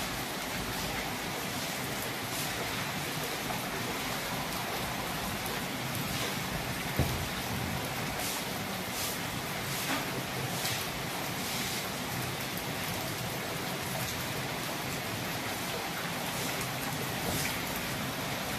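Steady rain has been falling since morning on potted plants outside, a continuous soft hiss and patter at moderate level with a few sharper drips, and no voices.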